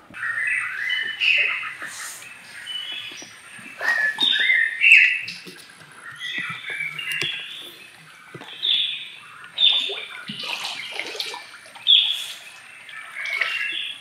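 Birds in the Lokoli swamp forest chirp and call in bursts of bright, layered song over about fourteen seconds, fairly close and clear, with faint water sounds beneath.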